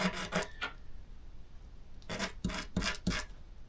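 A small miniature couch piece is rubbed flat with a little piece of sandpaper, giving two clusters of short rasping scrapes, a few strokes early and four more near the end, close by with quiet gaps between.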